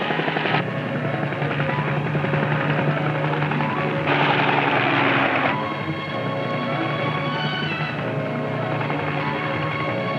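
A helicopter flies over Arctic pack ice where harp seals lie below, its rotor and engine drone steady and close, swelling louder for a moment midway before settling back.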